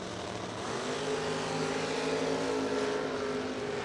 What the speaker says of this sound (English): Two Camaros having at it.